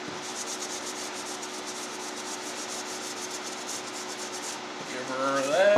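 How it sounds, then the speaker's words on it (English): A blue shop rag wiped firmly over a camouflage-painted gun magazine, giving a steady close-up scrubbing rub that holds for several seconds before a louder shuffle at the end. "Dab some on a cloth. I'm using a blue shop rag, and then wipe her down."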